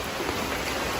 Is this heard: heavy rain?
yes